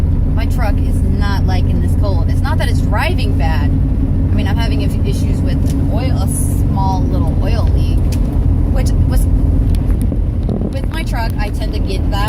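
A truck in cold winter weather hums with a steady low engine drone from inside the cab, under continuous talk throughout.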